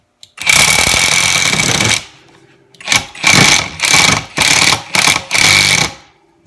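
A Kimo 20V brushless impact driver with an aftermarket bit hammers screws in, loud and close: one long rattling burst of almost two seconds, then five shorter bursts in a quick stop-start rhythm.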